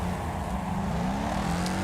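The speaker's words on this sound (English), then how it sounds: "it's a car game" Racing video game car engine drones steadily at close range with a sustained, slightly rising hum for under two seconds, no voices present.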